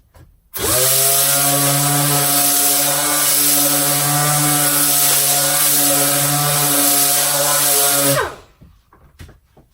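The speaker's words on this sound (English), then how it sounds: "so I would strictly sand in an east to west pattern back and forth and ensure proper coverage" A Dynabrade random orbital sander whirs loudly and steadily on wood for about eight seconds with a constant pitch, then switches off and spins down.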